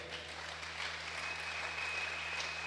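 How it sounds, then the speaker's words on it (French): A church congregation at a morning service applauds in praise, a steady, moderately distant wash of clapping that holds evenly for a few seconds with no talk. "tu acclames pour le Seigneur."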